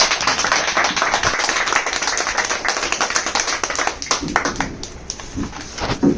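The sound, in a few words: audience clapping loudly at training session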